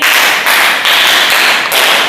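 A bilingual primary school class in Douala applauds a pupil, a loud, close, dense wash of many hands clapping in a few rhythmic surges, with no talking over it.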